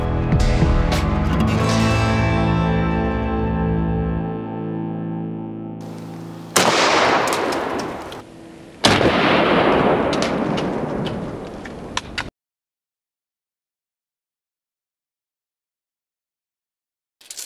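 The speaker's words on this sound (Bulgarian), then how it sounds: "отиваме да гръмнем и този патрон" A shotgun cartridge fired outdoors at a target during a pattern test, with loud, sharp blasts and heavy rumbling decay, followed by more bursts of noisy impact before the sound cuts to silence.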